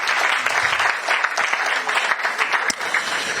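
Loud, dense audience applause fills a hall at the launch of a national science and maths quiz championship, continuous clapping from many people throughout.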